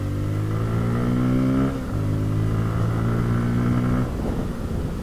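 A Bajaj Pulsar F250 motorcycle accelerating hard, engine note climbing through the gears with a brief dip at each shift, close and loud with no talk.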